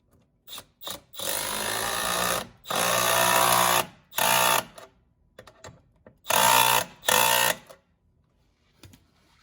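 Power tool torquing intercooler pipe clamps on a 2017-2019 Duramax during a Wehrli Fab intercooler pipe install: several short, close whirring bursts separated by pauses and small clicks.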